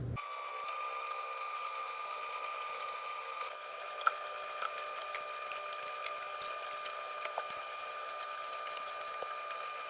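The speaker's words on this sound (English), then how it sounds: "washer and dryer are both going" A washing machine and dryer run together in a laundry room, giving a steady mechanical hum with a constant tonal whine, light rattles and occasional small clicks throughout.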